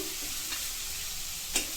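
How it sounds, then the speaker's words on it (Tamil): Steady sizzling of onions and tomatoes frying in a pan, with a faint stir or scrape partway through. "தக்காளி, வெங்காயம் எல்லாம் வதக்கி தான் நம்ம போட்டிருக்கோம்."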